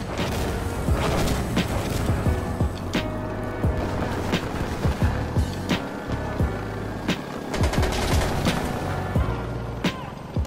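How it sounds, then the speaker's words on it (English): Explosive machine gun fire from an Apache helicopter in the video game Insurgency Sandstorm, with dense bursts of impacts and booms over a steady rumbling battle backdrop, loud and continuous throughout. "passively taking out enemy forces with explosive MG fire"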